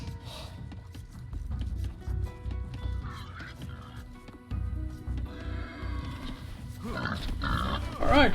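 Boar grunting in Age of Empires, short snorting grunts scattered among other game sounds and unit noises, with a voice talking over them.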